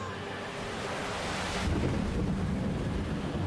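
Strong wind buffeting the microphone with a roaring, surf-like rush that swells louder halfway through.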